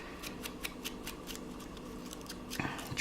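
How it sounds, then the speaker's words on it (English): Scissors trimming paper for an autumn-themed ATC card, a steady series of crisp close snips and paper rustles, with a slightly louder cut near the end and no speech. "I'm going to have to trim this a fair bit"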